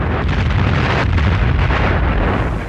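A bomb explosion in archival war footage, heard as a loud, sustained low rumble and roar with crackling bursts, continuous for a few seconds before easing slightly at the end.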